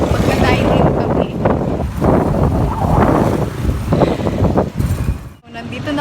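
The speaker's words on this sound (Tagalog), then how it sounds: "Mahangin sa labas." Strong wind buffets the microphone outdoors, producing loud, continuous gusty rumbling and roaring that rises and falls throughout.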